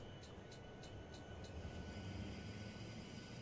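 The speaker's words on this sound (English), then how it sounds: "Wow, I've never actually listened to the APU start up" A Boeing 737-800 auxiliary power unit spins up in a flight simulator as a steady, even rumble and whine, with a few faint high ticks near the start and no voices.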